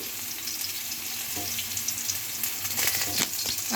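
Potatoes fry in hot oil with a steady, close sizzle and crackle throughout, with light scraping of stirring and a few louder spits near the end, no voices.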